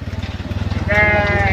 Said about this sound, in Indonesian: Kambing gede ya.